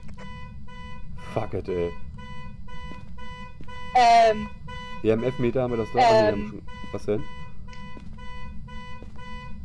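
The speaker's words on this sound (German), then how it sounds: "Das ist die Alarmanlage." A car alarm sounds in the ghost-hunting horror video game Phasmophobia as a continuous, steady electronic tone that runs throughout, while several people talk excitedly over it.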